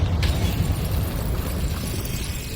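A Bombarda blasting spell smashes a stone wall in the Hogwarts Legacy game, a sharp burst at the start followed by a loud, sustained low rumble of crumbling debris.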